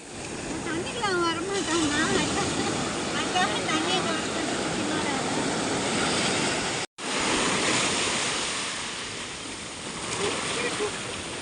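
Sea waves surge and wash continuously onto Varca beach in Goa, a loud, steady roar of surf with wind noise, and a voice briefly audible near the start.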